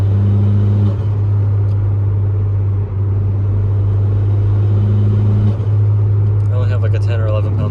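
A turbocharged MINI Cooper S cruising in sixth gear below 3,000 rpm gives a steady, loud, low engine drone with constant road rumble, and a voice speaks briefly over it near the end.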